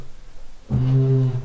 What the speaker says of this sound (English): But you can hear now I'm turning the wheel